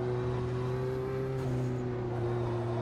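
Race car engine held at full throttle in the Automobilista 2 racing sim, a steady loud drone with strong sustained tones and no breaks, alone.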